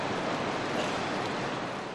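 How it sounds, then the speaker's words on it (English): Floodwater from Hobart's rivulet gushing through city streets after heavy rain, a steady, dense roar of rushing water that stays loud and unbroken throughout, with no voices. "With the heavy rain, Hobart's rivulet broke its banks, sending water gushing into the CBD."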